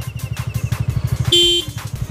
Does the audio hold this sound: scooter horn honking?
yes